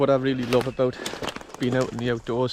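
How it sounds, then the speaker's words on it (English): Countryside birdsong with pigeon- or dove-like cooing drifts faintly in the background, mostly buried under someone talking close by outdoors. "you can hear the birds singing."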